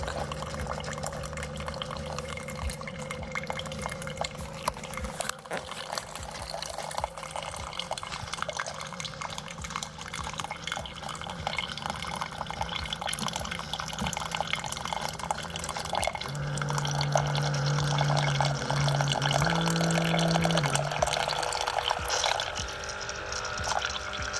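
A Keurig K-Express coffee maker brews into an oversized cup, giving a steady drip and trickle of liquid throughout, with a low pump hum that steps up near the end; no one talks.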